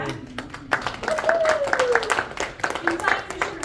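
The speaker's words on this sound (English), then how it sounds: "You clap for that." Scattered audience clapping at a summer poetry open mic, fairly close and moderately loud, mixed with a voice speaking over it.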